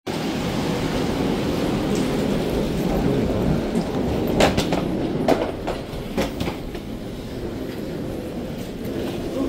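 Airport air train running steadily toward a terminal station, its dense rumble and rattle filling the whole stretch with a few sharp clanks and squeaks in the middle, loud and close as if heard from inside the car.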